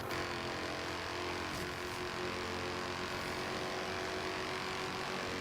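Engine and exhaust of an Alfa Romeo 8C Competizione V8 in the Forza Horizon 3 racing game, a loud continuous drone cruising in sixth gear with a steady pitch.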